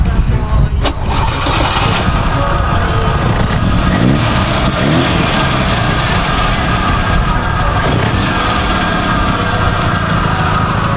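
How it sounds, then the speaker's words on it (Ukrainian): A Lada car engine cranking and catching, then running with a rough, loud idle and some revving, close by and continuous. "зараз ми спробуємо завести цей автомобіль і трошечки проїхатись"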